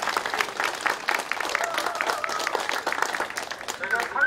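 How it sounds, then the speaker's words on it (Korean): An audience claps at a market signboard improvement project event in Icheon, Korea, with steady moderate applause of many hands continuing for several seconds in a hall. "박수 한번 주십시오."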